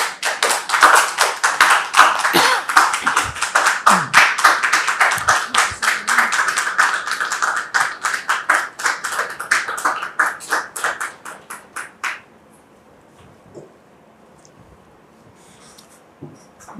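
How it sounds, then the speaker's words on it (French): Studio audience applause on a TV talk show set greets an arriving guest, a dense burst of many hands clapping for about twelve seconds before cutting off abruptly into near silence. "Recevons-la maintenant avec vos applaudissements."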